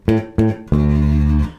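A bass guitar plays the second bar of a simple, groovy beginner bass line: two short, clipped notes followed by one long sustained note, loud and close with no one talking.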